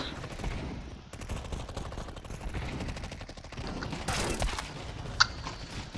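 In Counter-Strike 2 a pistol fires a rapid burst of sharp shots, followed by a few more scattered reports and one louder close crack near the end, heard over game background noise.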